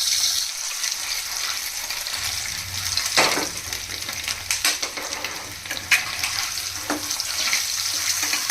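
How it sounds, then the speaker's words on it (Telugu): Whole eggs fry together in a wide kadai with turmeric for an egg curry, giving a steady sizzle broken by sharp spatula clicks and scrapes at irregular moments. "ఈ పసుపు వేసుకోవడం వల్ల ఎగ్ అనేది ఈవెన్గా ఫ్రై అయ్యిద్ది అనమాట"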